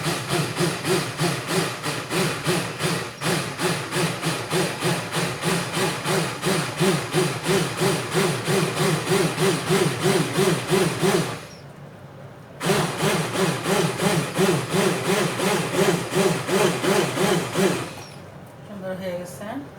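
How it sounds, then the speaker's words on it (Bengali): A hand blender purees cooked dal in a home kitchen, giving a loud, steady, pulsing motor whir that cuts out briefly partway through, then resumes and stops near the end. "আমি একটা হ্যান্ড ব্লেন্ডার দিয়ে করে নিব"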